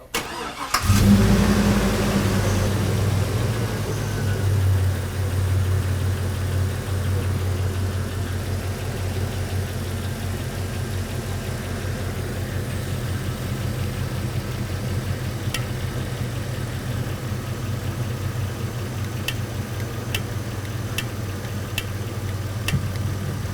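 A 2002 Chevrolet Silverado pickup engine with a P0174 lean fault turns over and settles into a steady, even idle close by, humming on continuously with a few faint clicks.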